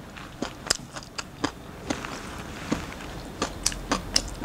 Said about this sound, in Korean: 은행 하나를 넣고 요렇게 해서 한번 먹어보겠습니다